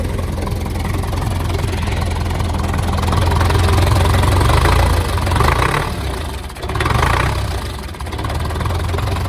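A tractor engine running at a loud, close idle in winter on a small farm, a steady rumbling drone with a couple of brief dips and surges in revving.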